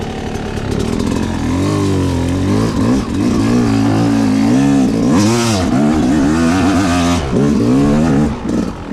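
A hard enduro dirt bike engine revs hard and continuously, its pitch climbing and dropping through repeated throttle bursts as it launches in second gear over an obstacle on a rooty off-road trail, loud and close throughout.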